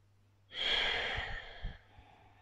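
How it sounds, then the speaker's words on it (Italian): A single slow, deep yoga breath drawn during Ashtanga practice, a soft airy rush that swells and then fades, close and quiet. "Rimango 5 respiri."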